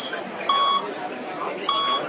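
Electronic beeping from a board game's companion app plays in repeated short tonal bursts, with a person talking over it throughout.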